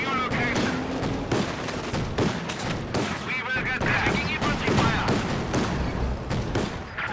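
Battle gunfire in Company of Heroes 2, Wehrmacht Ostheer against British forces with an enemy panzer attacking: dense, continuous volleys of shots and bursts at a steady loud level for several seconds, with voices mixed in.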